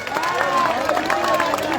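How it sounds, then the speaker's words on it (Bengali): Audience clapping and cheering for a prize giving at a popular outdoor game event, a steady crowd roar with a voice over a loudspeaker talking throughout. "আমরা সকলে একটু করতালি দেই, পুরস্কার সকলে একটু করতালি দেই।"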